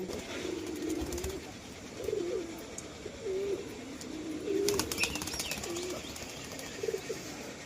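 A pigeon takes off and flies up, giving a couple of brisk bursts of flapping wings. Soft, repeated coos and faint outdoor background sound fill the gaps between the wingbeats.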